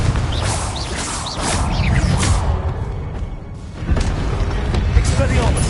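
Confringo explosion spells go off in Hogwarts Legacy as a series of booming blasts with whooshing swishes and crashing debris over a dense, rumbling battle bed, with a voice calling out during the fight.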